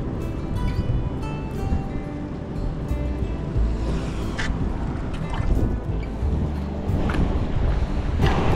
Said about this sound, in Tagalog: Medyo humangin nga lang